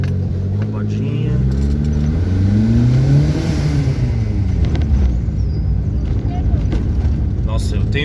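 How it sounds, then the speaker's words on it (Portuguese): Turbocharged Fiat Uno engine revving hard inside the car, a loud, rising and falling mechanical drone with a rattling turbo flutter layered over a steady rumble. "Nossa, eu tenho que ver se tá dando pra escutar esse Flutter"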